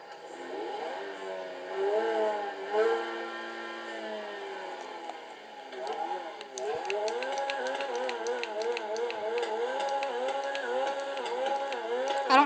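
A Lamborghini engine in the GTA V video game, heard as a sustained, wavering engine tone that rises and falls with revving, followed by a busier stretch of rapid clicking and rattling over the drone.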